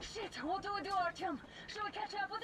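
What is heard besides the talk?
None of the usual background noises is heard.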